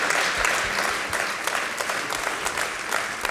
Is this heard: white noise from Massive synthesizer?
no